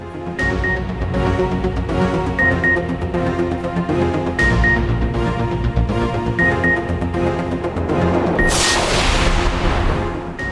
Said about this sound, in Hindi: कन्वेंशन में सदर जरदारी की सालगिरह का केक काटा गया, आतिशबाजी की गई